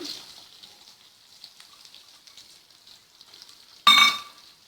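Squares of onion drop into a hot pan with a sudden loud sizzle near the end, after a faint steady frying hiss for a few seconds beforehand.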